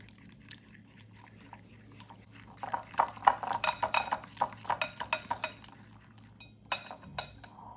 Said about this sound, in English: We'll use a fork to mix them until they're combined.